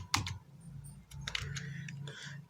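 Fingers typing on a computer keyboard give a few quiet, close key clicks in short irregular bursts against a faint low background hum.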